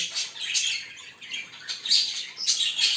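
An agitated budgerigar squawks in harsh, loud, close bursts, with several shrill calls in quick succession and short gaps between them.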